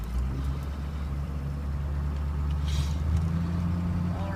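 A 2006 Ford F350 diesel truck drives along with a steady, low engine drone and road rumble, heard from inside the cab and holding constant throughout with no talking.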